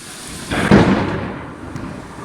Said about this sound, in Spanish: Y como oyen, por segundo día consecutivo, la tormenta ha sorprendido también a Valladolid.